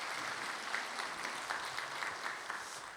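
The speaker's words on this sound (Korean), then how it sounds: "여러분 박수 한번 해주시기 바랍니다." A church congregation applauds after a worship song during a Sunday service, a continuous even clatter of many hands heard faint and somewhat distant, with no voices over it.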